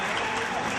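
Steady crowd applause at a racquetball semifinal, the 2006 US Open between Jack Huczek and Jason Mannino, a dense and even clapping wash that fills the whole short moment.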